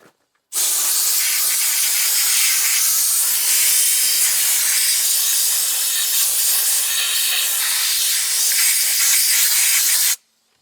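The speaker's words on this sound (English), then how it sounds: "Compressed air is nice" Compressed air blasting through an AR-15 receiver, a loud continuous close hiss that starts abruptly, holds steady for about ten seconds and cuts off sharply.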